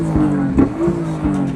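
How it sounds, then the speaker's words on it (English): A modified turbocharged car at a busy night car meet, one that earlier spat flames, revs its engine in short pulsing bursts, loud and close, with a steady droning note between the blips. "Bro, he's revving it again."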